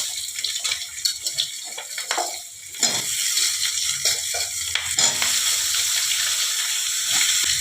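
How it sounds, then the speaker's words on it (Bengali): Potato pieces frying in hot oil for a rohu fish-head chochchori, a loud close sizzle that swells and holds steady after some stirring and scraping at the start, no speech. "এবারে আমি আলুগুলোকে আগে ভেজে নেব"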